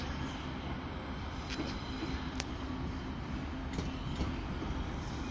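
A Class 185 diesel train at Manchester Piccadilly station makes a steady loud rumble and hiss of a running railway engine, broken by a few sharp clanks.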